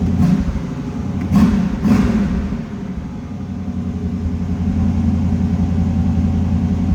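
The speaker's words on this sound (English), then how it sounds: "We'll get it to come off that high idle here so you can hear it." A 1979 Pontiac Firebird Trans Am engine idles with a steady low rumble, two brief revs early on before it settles back to an even, fairly loud idle heard up close.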